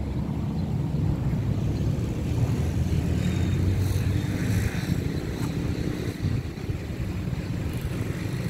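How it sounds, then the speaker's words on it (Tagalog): Steady wind in a seaside park in Ormoc City at high tide, rumbling and buffeting the microphone, a continuous low roar with no voices. "Medyo mahangin dito ngayon sa park."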